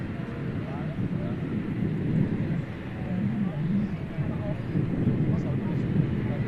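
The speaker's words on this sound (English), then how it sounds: "Coming in from Jeddah, of course, the aircraft." An airliner arriving from Jeddah at Manchester Airport gives off a loud, steady, broad rumble mixed with wind buffeting on the microphone, and people talk over it.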